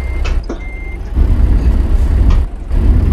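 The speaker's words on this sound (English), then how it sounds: "Just back the trailer on up" Truck in American Truck Simulator backing up a trailer, a few sharp reversing beeps early on over a loud, steady low engine rumble that swells and dips; no talking.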